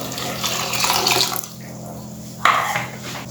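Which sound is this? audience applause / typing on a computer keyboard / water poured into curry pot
water poured into curry pot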